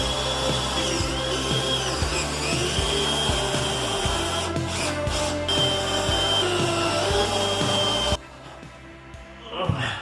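A power drill drives screws into a kitchen cabinet during a renovation, with a loud, steady whirring motor and bursts of load that stop abruptly near the end, leaving a quieter room.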